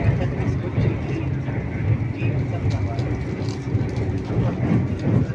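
Howrah–Ranchi Vande Bharat Express running at about 130 km/h while crossing the Rupnarayan river bridge, a steady loud rumbling roar with faint rhythmic rail clatter heard from inside the carriage.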